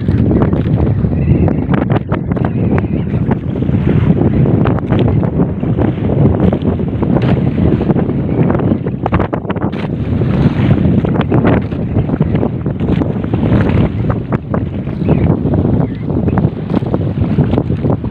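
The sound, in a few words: strong typhoon wind at sea around a fishing boat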